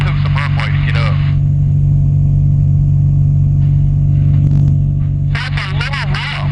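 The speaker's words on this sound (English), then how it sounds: "It's just the engine, I think." A Sonex light aircraft's engine runs at high throttle with a loud, steady low drone and slight roughness, while people talk over it through a headset intercom at the start and the end.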